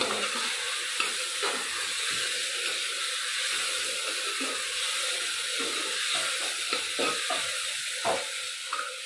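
A spoon scrapes and stirs masala paste sizzling in a pan for mutton curry, a continuous hiss broken by repeated rhythmic scraping strokes, close and alone.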